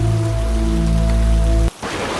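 Steady rain pours down in a dense, loud hiss, with a low droning hum underneath that cuts off abruptly near the end.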